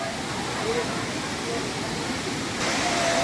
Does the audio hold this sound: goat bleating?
no